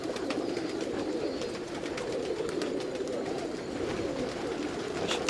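A flock of breeding pigeons cooing together in a loft, a dense continuous murmur of overlapping coos with faint wing flutters, close and steady.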